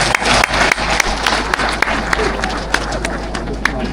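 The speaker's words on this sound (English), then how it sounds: "Non-farmers, can you clap for us farmers?" Large crowd at a Zambian farming event clapping for the farmers, steady dense applause with sharp individual claps standing out, some voices murmuring underneath.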